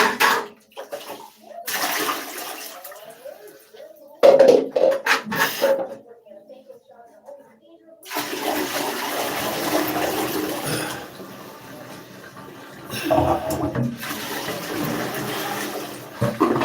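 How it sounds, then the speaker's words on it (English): Water poured from a bucket splashes loudly into a toilet bowl in long gushes with brief gaps, followed by a rushing, gurgling flush nearby. "It takes approximately 1 bucket of water to flush the toilet."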